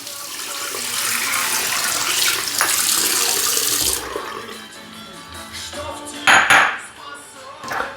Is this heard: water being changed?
yes